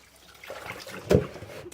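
Water poured into a cooking pot while making tofu bean sprout stew, a short soft trickle that ends in one brief splashy gush, close by and alone.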